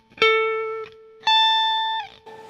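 Electric guitar with effects plays single sustained notes of the A Mixolydian mode, each ringing clearly and decaying before the next, alone and close.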